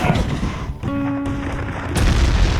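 Troops open fire in a battle scene, a cluster of loud booming shots and rumbling gunfire with a brief ringing tone between bursts, close and heavy throughout.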